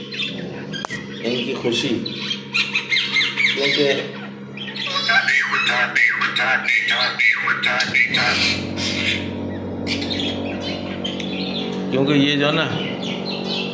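Pet parrots in a cage squawk and chirp loudly and almost continuously, with someone talking over the birds throughout.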